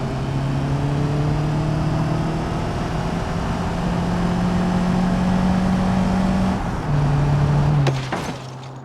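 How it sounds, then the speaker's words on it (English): A car in the BeamNG driving game cruises at 50 mph, its steady engine drone holding a low hum throughout, with a brief shift near the end before the tone settles. "the vehicle is going 50 miles an hour"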